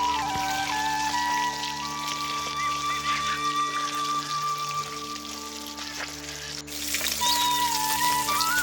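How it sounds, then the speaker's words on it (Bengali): Pieces of bata fish sizzle and spatter steadily in hot oil as they are turned in a pan for a Bengali fish curry, a dense continuous crackle close by with no talk. "এপাশ ওপাশ উল্টে মাছটাকে আমি ভালো করে ভেজে নিচ্ছি।"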